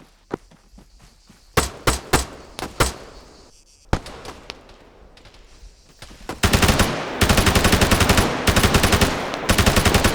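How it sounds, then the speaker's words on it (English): Gunfire crackles during a team training exercise, scattered single shots at first, then a dense rapid volley near the end, sharp and fairly close. "I heard shots too."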